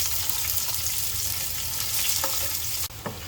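Sliced onions fry loudly in a pot with a dense, steady sizzle, then a sudden drop and a couple of stirring knocks near the end.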